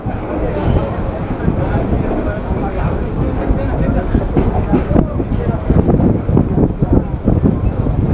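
Local train pulling out of Tamluk station in West Bengal, a loud continuous rumble and rattle of wheels and carriages building in intensity, heard close by from the platform with a voice speaking over it.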